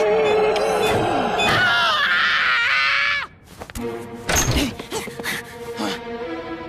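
A cartoon character screams loudly and at length in a French-dubbed animated series, followed by thuds, clatter and a brief cry after the scream cuts off.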